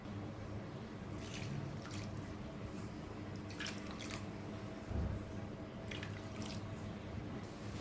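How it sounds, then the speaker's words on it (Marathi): Water poured into a pot for tomato rice gives a steady, faint splashing and trickling with occasional drips, continuous and low throughout without any voices. "ज्या वाटीने मी तांदूळ घेते त्याच वाटीने 4 वाटी पाणी घेणार आहे"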